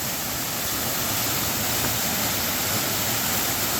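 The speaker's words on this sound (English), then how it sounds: "we made it to Buttermilk Falls." Buttermilk Falls in Lehigh Gorge State Park pours as a constant, dense rush of falling water, loud and close with no breaks or voices.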